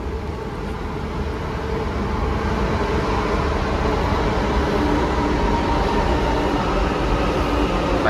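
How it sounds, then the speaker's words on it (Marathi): A Delhi Metro train rolls past as a steady, loud rumble and hiss that swells slightly as it nears, with no voices. "आहे दिल्ली मेट्रो बघा तुम्ही कशी आहे"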